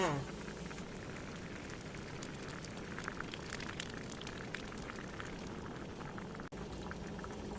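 Bamboo shoot fish curry boiling hard in a pot, a steady dense bubbling and churning with rain-like patter that continues throughout, close and fairly loud, with a brief click near the end.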